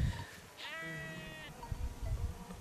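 A sheep on a Turkish village livestock farm gives a single clear bleat lasting about a second, alone against faint rustling and a few low knocks afterward.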